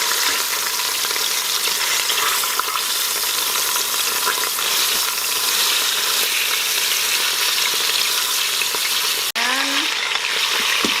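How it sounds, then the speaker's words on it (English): Pork tenderloin halves sear in olive oil inside an Instant Pot, giving a steady, loud, close sizzle and crackle that runs unbroken, with a brief clank near the end. "I cut the tenderloins in half so they'll fit better in the Instant Pot, and you want to brown all sides of the tenderloin"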